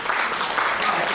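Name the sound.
audience applause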